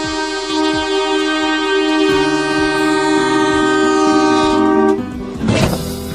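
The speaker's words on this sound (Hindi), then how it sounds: "ट्रेन लगातार वार्निंग के तौर पे हॉर्न बजा रही थी" A train blasts its horn continuously as a warning while approaching, a loud, near, sustained multi-tone blare over rumbling wheels and rail clatter that breaks off into a burst of noise near the end.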